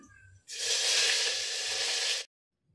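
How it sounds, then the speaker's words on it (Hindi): Whole spices — a piece of cinnamon, two chillies and bay leaves — dropped into hot oil, giving a sudden loud sizzle that holds steady for under two seconds, then stops, over faint background sound. "ये दालचीनी के एक टुकड़े दो मिर्चे हैं और ये तेज़ पत्ते मैं इसे डाल दूँगी"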